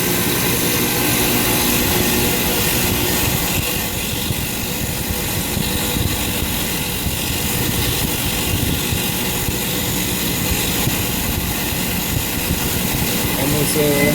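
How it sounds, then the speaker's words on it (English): A grinding wheel resurfaces the flywheel of a 1998 Honda Prelude, giving a loud, steady, rough grinding roar that holds without a break from start to finish. "wheel that's going to cut the surface of the flywheel."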